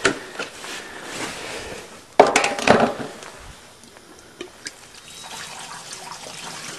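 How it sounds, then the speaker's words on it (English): Fuel is poured through a funnel into the tank of an old go-kart that has sat unused for years. A sudden splashing pour is followed by softer trickling and a few light knocks, heard close. "Now I'm ready to put this back on and add some fuel."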